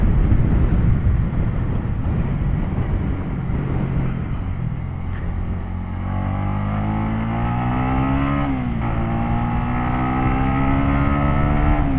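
A Honda Winner X 150 motorcycle engine accelerating on a racetrack in Carmona: loud, close, rising rev with harmonic pitch climbing through gear changes, one brief dip near the middle, then climbing steadily again, with wind rush throughout.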